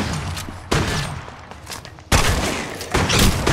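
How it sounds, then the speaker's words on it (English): Gunfire in Apex Legends Mobile: loud, close bursts of overlapping shots and blasts with abrupt onsets and sustained noisy rumble between them, no speech. "I'm putting fire on the enemy."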